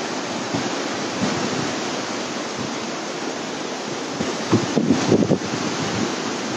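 Water rushes steadily through Dong Valley at a roadside stop, a loud, continuous broadband roar with a few brief louder bursts near the end.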